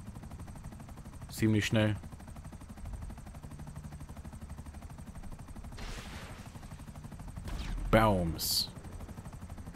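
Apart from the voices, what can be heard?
gunfire from shooting in the video game GTA V Online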